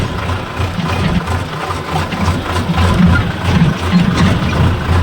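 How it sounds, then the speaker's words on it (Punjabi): A tractor with a trolley runs with a steady low diesel rumble and vibration, holding an even, fairly loud drone throughout with no talk over it. "ਤੇ ਆਪਾਂ ਟਰੈਕਟਰ ਟਰਾਲੀ ਲੈ ਕੇ ਤੁਰ ਪਏ ਪੱਠਿਆਂ ਨੂੰ"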